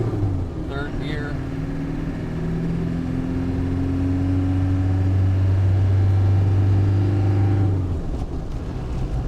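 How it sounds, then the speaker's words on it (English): A 1989 Land Rover 110 with a 200Tdi diesel engine accelerates through the gears from inside the cab, its steady engine drone rising in pitch and shifting between gears before easing off near the end, with a voice speaking over it. "we'll accelerate one more time through all the gears"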